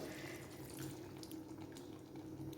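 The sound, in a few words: pouring coconut milk into a pot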